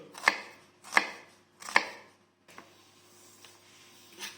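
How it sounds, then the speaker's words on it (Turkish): A knife chops onion on a board in three sharp, evenly spaced strokes, followed by a few quieter taps. "Soğanımızı doğradık."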